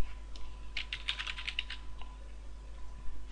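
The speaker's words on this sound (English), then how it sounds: "I would just type it in here" Computer keyboard keys tapped in short bursts of clicks, fairly quiet and close, with a clustered run of keystrokes and a sharper isolated click at the end, no voices.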